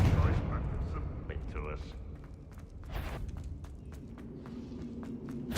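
In Hogwarts Legacy, a Confringo fire spell goes off with heavy, booming blasts and crackling bursts, mixed with in-game footsteps while a player's voice speaks over the action.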